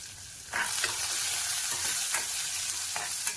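Curry leaves sizzle and crackle in hot oil in a pan, a sudden loud frying hiss that holds steady with scattered pops and light stirring, close and without talk.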